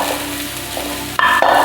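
Sliced big onions drop into hot oil after a cooked paste, for chicken pepper fry; a soft steady sizzle bursts suddenly louder near the end as they hit the pan, no talking.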